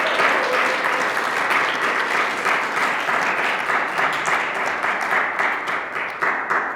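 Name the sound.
audience applause welcoming Michael Last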